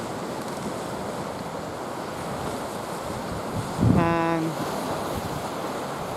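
Ocean surf at the shore in Bar Harbor, Maine, a constant wash of waves under heavy wind buffeting on the microphone, with a brief, louder tonal sound midway through.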